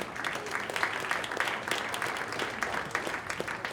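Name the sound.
round of applause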